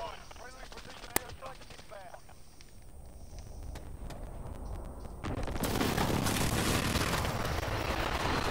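Cruise missile strike in Call of Duty Modern Warfare, a sudden swelling roar of explosion and rumbling debris that fills the second half after scattered gunfire and a sharp crack, with faint talk early on.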